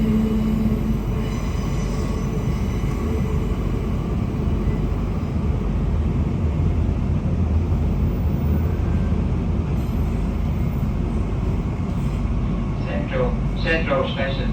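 Queensland Rail IMU 160 electric train running between Milton and Bowen Hills, a steady low rumble of motors and wheels heard from inside the carriage, with brief higher squeals and a faint voice near the end.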